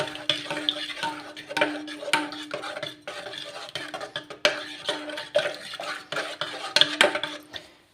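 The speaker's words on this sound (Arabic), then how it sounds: "وهقلب بقى كله في بعضه كده" Spoon stirring yeast into milk in a metal pot, repeated scraping and clinking strokes in an irregular rhythm, close and fairly clear, with no talk.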